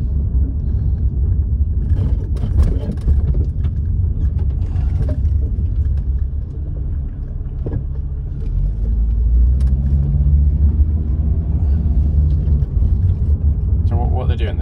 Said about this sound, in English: No, no, there's another car coming through.